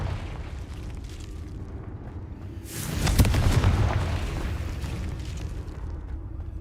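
A Confringo blasting spell detonates in Hogwarts Legacy, a single deep booming explosion swelling out of a quiet background and rumbling away over a few seconds, with no talking.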